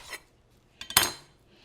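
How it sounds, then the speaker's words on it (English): A knife slicing the root end off a medium yellow onion on a cutting board gives a few quick, close, crisp cuts and taps in a row, the last one the loudest, with no talking. "Cut off your root."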